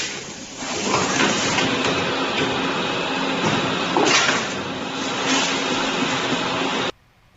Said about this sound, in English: Tea pouch packing machine for 1 kg loose leaf tea packaging with vacuum function.